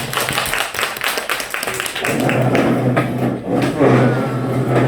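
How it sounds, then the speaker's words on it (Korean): A church congregation claps briefly to close an announcement, a short burst of hands mixed with a low rumbling hum and some faint talk. "박수로 마무리하겠습니다."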